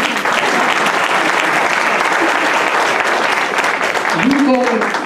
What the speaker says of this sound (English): So give me a clap